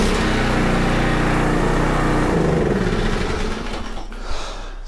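A Troy Bilt pressure washer engine rumbles close and loud as it runs, its steady low drone shifting in pitch before settling into a rougher, quieter idle toward the end.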